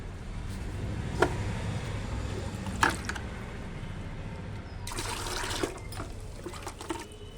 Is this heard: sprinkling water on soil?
yes